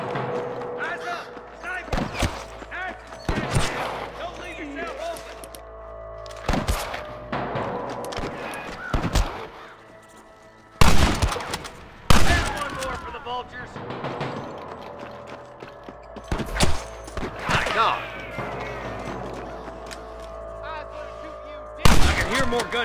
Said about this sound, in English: More gunshots.